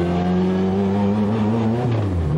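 A former world champion's Stewart Formula 1 racing car engine roars loud and close, holding a steady high pitch before a quick rev shift near the end.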